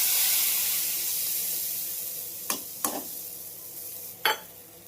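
Cumin seeds and a ginger-cumin-chili paste in hot oil, a broad sizzling hiss that slowly fades, broken by three sharp scraping stirs near the end, no voices.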